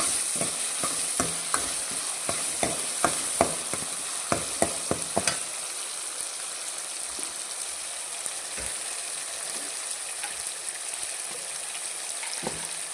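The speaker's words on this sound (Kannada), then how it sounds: "ಸ್ವಲ್ಪ ಫ್ರೈ ಆಗಬೇಕು ಟೊಮೆಟೊ." Chopped tomato fries with ginger garlic paste in a pan for a cabbage palya, a continuous close sizzle with sharp stirring clicks and scrapes in the first half, then steady frying alone.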